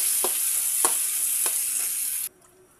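Tomato sizzles as it fries in a pan with ginger, onion and garlic. The steady crackle carries three soft stirring scrapes and cuts off abruptly near the end.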